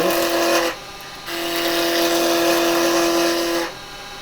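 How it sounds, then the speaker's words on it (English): A 1-inch fingernail-grind roughing gouge cuts wood spinning on a lathe, producing a loud, steady whirring hum with a brief dip partway through and a drop at the end. "I'm going to use my 1-inch fingernail grind roughing gouge"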